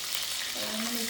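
Ginger and garlic dropped into hot oil in a pan for a fish curry, sizzling and frying with a soft, continuous hiss, close and quiet, with a faint tonal hum emerging toward the end.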